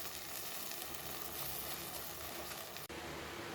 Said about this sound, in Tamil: அடுப்பை ஹையில் வச்சுருங்க ஹையில் வச்சுட்டு நல்லா வதங்கணும்